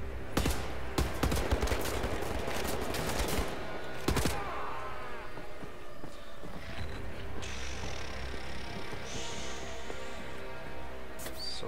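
Bursts of rapid machine-gun fire and scattered gunshots from a firefight in the shooter Wolfenstein: The New Order, dense and loud at first, then thinning into a few isolated shots and fading combat noise.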